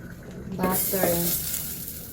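Butter frying in a pan as the base for a white sauce for no-bake spaghetti, a soft close sizzle with a brief stirring scrape, steady and fairly quiet.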